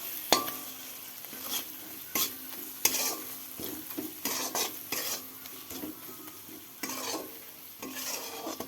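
Spice masala, turmeric and salt fry in oil in a pan, a continuous soft sizzle with frequent metal spoon scrapes and clinks as the mixture is stirred, no talking.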